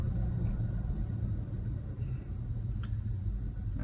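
Toyota Tacoma pickup slowing toward a stop and downshifting from fifth to fourth gear, heard from inside the cab as a steady low engine and road rumble, no voices.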